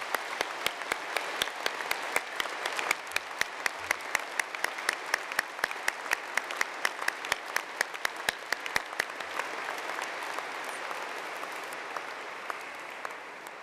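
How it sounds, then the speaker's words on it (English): A graduation ceremony audience applauds the graduands with long, steady clapping from a large hall crowd, punctuated by crisp nearby claps, staying strong before easing slightly toward the end. "I'd now like you to give your graduands a big round of applause"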